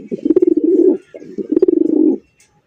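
A pair of red pigeons in a cage coo loudly and close, giving two rolling, throaty coo phrases separated by a short pause.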